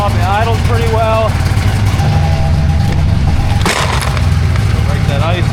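A 1998 Ski-Doo 583 snowmobile's two-stroke engine idles steadily while warming up, a constant close rumble, with someone talking over it and a brief sharp knock midway.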